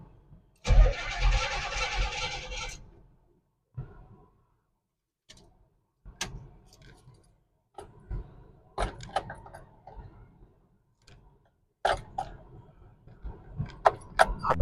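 Pontiac Firebird engine cranks and fires once in a loud burst, then falls quiet, followed by scattered clicks, key jangles and switch-flipping sounds inside the car.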